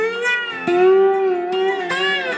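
Unmuted slide guitar playing a sustained, ringing note with strings left to resonate together into a muddled, smeared tone, loud and close with no talking.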